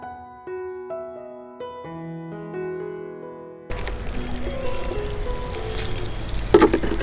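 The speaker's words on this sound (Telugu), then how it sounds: "సో ఇలా టబ్ మొత్తం వాటర్తో ఫిల్ చేయాలండి." After a brief stretch of music, water pours steadily into a tub holding a 5 kg coco peat brick, a continuous splashing rush that lasts to the end.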